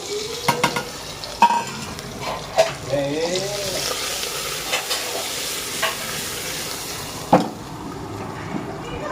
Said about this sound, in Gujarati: સરસ મજાનો મસાલો કરી અને આપણો આમાં વઘાર કરી દઈશું જુઓ